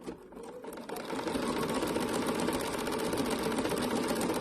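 A sewing machine runs steadily with a fast, even whir and rattle as it stitches raw edge applique. It starts with a brief lighter patch, then holds loud and continuous to the end.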